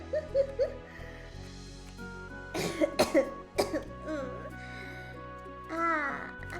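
Several close, sharp coughs in a quick cluster, surrounded by a voice talking before and after.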